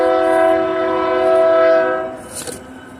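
A train rolls through town sounding a loud, sustained horn blast close by that fades away after a couple of seconds.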